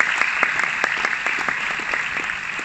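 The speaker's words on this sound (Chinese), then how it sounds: "请大家给我的上线一个热烈掌声" An audience clapping together at a company recognition event, a loud, dense, sustained round of applause filling the hall.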